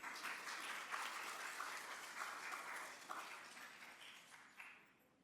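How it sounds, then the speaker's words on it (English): Audience applause welcoming a rabbi to the stage at a spiritual speaker event in Richmond, a steady, fairly distant wash of many hands clapping that slowly thins out over about five seconds. "Please join me in welcoming Rabbi Don Cantor."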